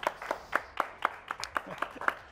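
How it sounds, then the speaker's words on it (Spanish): Sparse clapping from a small studio audience on a Mexican political talk show, about nine distinct claps in a slow, uneven rhythm, fairly near and moderately quiet. "Un aplauso, por favor."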